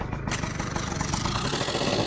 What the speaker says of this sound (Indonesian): kita coba nyalakan mesin terlebih dahulu